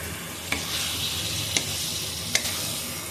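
Chicken and tomato sizzle in a pan of frying spice masala, giving a steady crackling hiss. Three sharp spoon scrapes or taps from stirring stand out at roughly even intervals.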